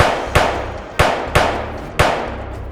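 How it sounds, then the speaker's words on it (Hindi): Four sharp, loud bangs spaced about half a second apart, each ringing out briefly with an echoing tail. "सीधे दे दनादन गोलियां चलने की आवाज आती है"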